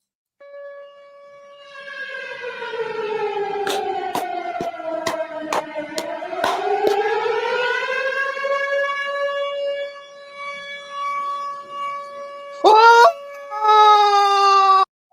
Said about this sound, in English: We need a siren effect, guys.